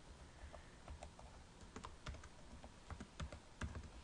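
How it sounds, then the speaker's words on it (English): Keys on a computer keyboard tap in quick irregular bursts while code is typed, light close clicks over a faint quiet background. "just like you guys are seeing me type"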